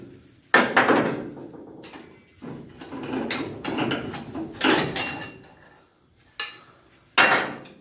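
Metal-on-metal knocks ring out while a leaf spring perch plate is hammered off the axle of a square-body truck: several sharp strikes spaced irregularly, with scraping and clattering between them, close and loud, no talk.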